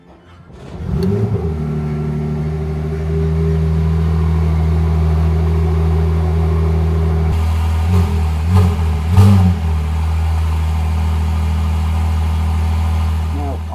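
A Ferrari 296 Challenge race car engine fires up with a sharp catch, settles into a loud, steady idle, then gets several quick throttle blips before returning to a constant idle.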